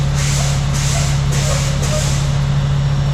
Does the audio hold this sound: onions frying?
no